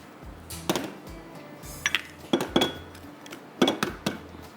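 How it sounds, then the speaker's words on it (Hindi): Eggs are cracked into a bowl for a cake-mix batter with about half a cup of oil, heard as a few sharp clinks and taps against the rim with quiet gaps between them. "एक अंडा तोड़ के डालेंगे ताकि वो ख़राब ना निकले"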